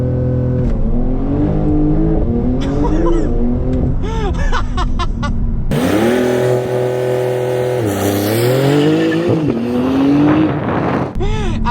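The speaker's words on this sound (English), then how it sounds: "0 to 60 in the 911 Turbo." Porsche 911 Turbo accelerating from a standstill to 60 mph, the engine revving hard and climbing through gears with loud rising pitch sweeps, heard from inside the cabin and continuing past a brief shift dip.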